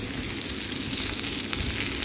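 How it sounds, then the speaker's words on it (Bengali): Garlic and onion frying in hot oil in a wok, a continuous bright sizzle and crackle at moderate volume, steady throughout with no talking. "একটা কড়াইয়ে তেল গরম করে রসুন পেঁয়াজ দিয়ে দিলাম, দিয়ে লাল লাল করে ভাজতে হবে।"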